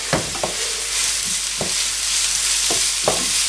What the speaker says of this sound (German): die fertig geriebenen Möhren einfach rein auch in die Pfanne zum Anbraten.